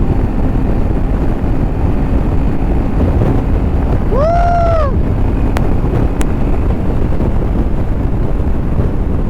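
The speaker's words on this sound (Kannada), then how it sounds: "ಬಟ್ ವಿಂಡ್ ಬ್ಲಾಸ್ಟ್ ಹೆವಿ ಇದೆ" Heavy wind roars across the microphone of a Royal Enfield Himalayan 450 with cross-spoke wheels ridden fast on an open road near Ramanagara. The loud, steady rush is broken midway by a brief rising-and-falling horn-like tone.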